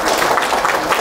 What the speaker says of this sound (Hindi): उन सब के लिए भी जोरदार तालियां दीजिए